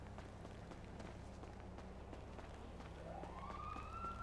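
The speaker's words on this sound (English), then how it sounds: "I hear sirens automatically." A siren wails faintly in the distance, rising near the end over a low background rumble.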